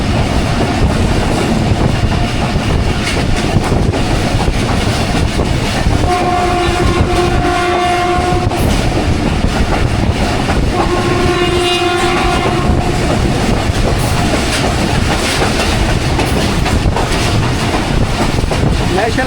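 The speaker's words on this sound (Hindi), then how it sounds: "ये 4:20 और बुरहान रेलवे स्टेशन को थ्रू पास कर रही है 13 अवाम एक्सप्रेस।" The 13 Awam Express passes through Burhan railway station, a loud, continuous rumble of rolling wheels close by, with two sustained horn blasts separated by a few seconds.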